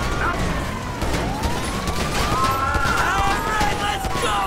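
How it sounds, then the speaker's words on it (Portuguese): A wailing police siren rises and falls in a GTA V game scene, steady and fairly loud over busy background noise, with voices talking along with it. "Não tá ouvindo a sirene da polícia."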